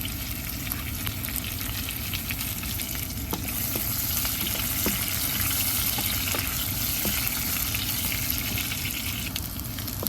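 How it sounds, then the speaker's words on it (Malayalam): Spices frying in oil inside an electric multipurpose vessel while being stirred, a steady close sizzle with occasional scraping clicks of the spoon, no talk. "ഇതൊന്ന് നല്ലപോലെ ഒന്ന് മൂക്കാൻ തുടങ്ങിയിട്ടുണ്ട്."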